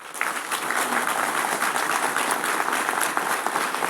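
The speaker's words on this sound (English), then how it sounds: "Please give them a round of applause." Audience applause for first responders at a public safety awards ceremony, a dense, even wash of clapping from a sizable crowd that holds steady for several seconds without speech.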